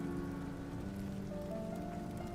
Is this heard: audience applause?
no